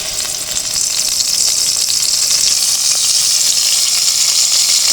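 Onion paste dropped into hot oil in a pan, a loud, continuous sizzle and hiss that rises quickly and holds steady and close.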